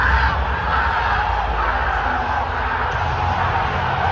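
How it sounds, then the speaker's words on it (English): A large WrestleMania arena crowd roars at a wrestler's return, a continuous loud wash of cheering and yelling that holds steady from start to finish. "the crowd erupted on his appearance"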